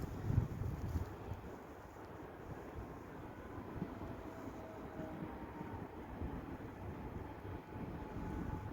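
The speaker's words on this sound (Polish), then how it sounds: "I powoli zbliża się pociąg osobowy z Piły Głównej do Bydgoszczy Głównej." A passenger train, an EN96 electric multiple unit, rumbles low and steady in the distance at Osowa station in Poland, its drone slowly building as it draws nearer, with no voices.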